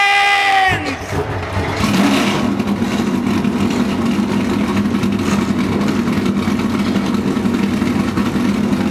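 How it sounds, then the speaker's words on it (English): NASCAR stock car engines at Dover fire up together after a brief tone, settling into a loud sustained rumble of many engines with crowd noise beneath. "Drivers, start your engines!"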